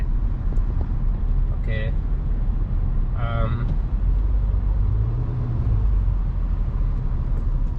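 Road traffic in the DC area, a steady low rumble of passing cars and vehicles throughout, with a short spoken word and brief tonal chirps over the noise.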